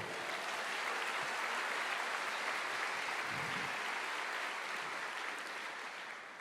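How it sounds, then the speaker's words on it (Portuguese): A church congregation applauds during a sermon service, a dense, steady wash of clapping that carries on throughout and tapers off slightly at the end. "aplauda o Senhor."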